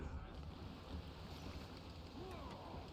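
Wind and open-sea wash around a sailing ship in Assassin's Creed Rogue, a steady broadband rush with low rumble throughout, faint creaks and a brief whistling gust near the end.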